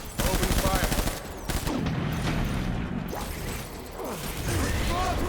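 Rapid bursts of gunfire from the Death Stranding video game, dense and loud, with clattering mechanical noises and whooshes mixed in and a voice talking over part of the clip.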